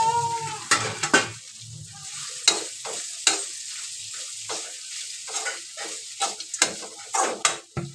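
Soaked flattened rice (poha) being stirred in a hot pan with salt, sizzling and frying with a spoon scraping and knocking the pan in irregular bursts, close and fairly quiet, no talking.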